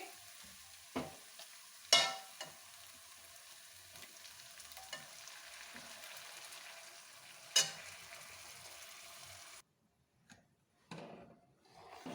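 Lentils go into a pan of cooked tomatoes and spices for Punjabi dhaba-style dal makhani, with a soft frying hiss broken by a few sharp spoon clacks against the pan and a short pause near the end.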